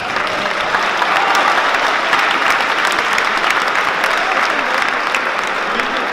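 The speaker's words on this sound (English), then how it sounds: "give Nick a round of applause" A school assembly audience gives a round of applause, a loud, dense and sustained wash of many hands clapping from a large crowd, steady throughout with faint voices mixed in.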